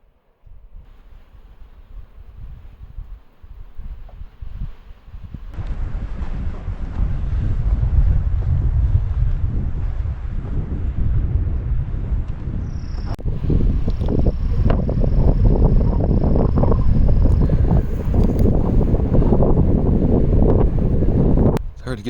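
Wind gusts at a mountain lookout 6393 feet up, blowing hard and buffeting the microphone with a loud, continuous low roar that builds after a quieter start.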